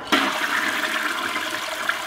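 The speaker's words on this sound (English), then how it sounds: "Flush always in a public restroom before you leave." A public restroom toilet flushes with a sudden loud rush of water that starts abruptly and keeps roaring steadily, close and alone with no voices.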